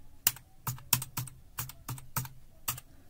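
Keys tapped on a computer keyboard to enter a terminal command, about eight crisp, fairly loud strokes at an uneven pace with no one speaking.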